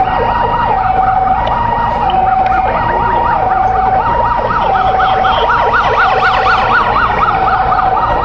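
A loud wailing ambulance siren cycles steadily up and down over constant engine rumble, close and continuous throughout, at an airport after a plane crash on the runway in Sylhet.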